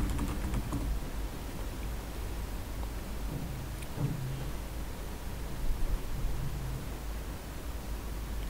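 Steady typing on a computer keyboard, entering a search in a WordPress dashboard, with continuous close key clicks over a faint background hiss and no speech.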